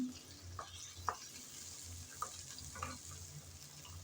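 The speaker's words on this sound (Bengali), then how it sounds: "কিছুক্ষণ সময় নিয়ে আলু ভালোভাবে কষিয়ে নিলাম।" Potatoes with spices sautéing in a pan, giving a steady soft sizzle with several faint stirring scrapes at irregular moments, moderately close and fairly quiet, with no talk.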